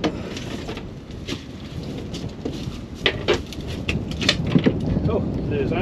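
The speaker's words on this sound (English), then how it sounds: "Here comes the rain." Rain begins falling on an Offshore 25 fishing boat at sea, a dense, close patter that builds across the moment, with people talking underneath.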